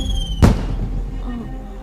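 A signal firework, an arrow-style distress rocket in a Chinese wuxia drama, goes off as one sudden sharp burst and rush that fades quickly under steady background music.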